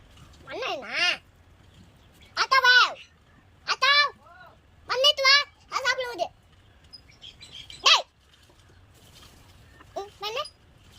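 A mother crow and its young call in a series of harsh, wavering caws, close and loud, in bursts of one or two with short pauses between them. The calls carry on for about ten seconds.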